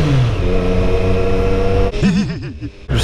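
A Triumph Street Triple motorcycle rides through town, its engine droning steadily and then revving in quick rising and falling surges, loud and close.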